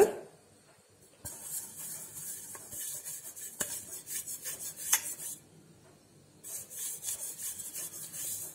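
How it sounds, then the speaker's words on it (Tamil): Oil rubbed by hand over the base of a round cake tin, producing soft intermittent scraping and rubbing strokes in two main bursts, close and fairly quiet with brief pauses between. "இதுல வந்து அடியில எண்ணெய் வச்சு தடவிக்கோங்க"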